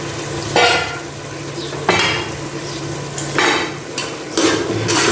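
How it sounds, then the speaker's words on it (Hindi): Chickpeas frying and being stirred into masala in a pot for white chickpea degi pulao, with a sustained sizzle and four sharp scraping stirs spaced a second or so apart. "अभी जो है इस मसाले के अंदर इसको भूनेंगे"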